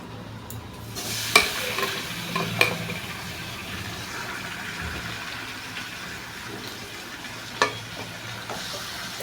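Marinated chicken pieces sizzle steadily in a hot pan for chicken biryani, with a few sharp scraping clinks of a spoon stirring against the pan over the constant frying hiss.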